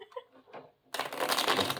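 A short burst of tarot cards being riffled and shuffled, crisp and close, following a brief soft voice and a pause.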